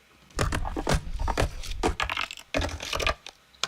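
A skateboard rolling and clattering over pavement, with bursts of gritty wheel noise and sharp knocks, fairly close and continuous.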